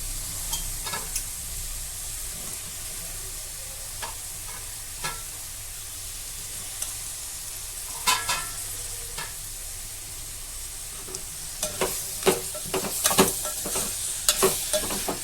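Punarnava leaves and tomato pieces being stirred in a hot pan, a soft steady sizzle with scattered scraping clicks of the spoon that grow busier toward the end.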